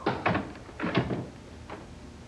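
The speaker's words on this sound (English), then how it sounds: "Would you mind shutting the door as you leave, please?" A door being shut indoors, with a few dull knocks and thumps clustered in the first second and one fainter bump after.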